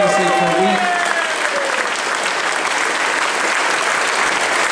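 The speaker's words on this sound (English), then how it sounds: "Big round of applause for Matt for all his hard work and help." Audience applause at the closing ceremony of the Confuzzled 2012 furry convention for chairman Matt: a loud, continuous wash of clapping from a large crowd, with a voice heard briefly at the start.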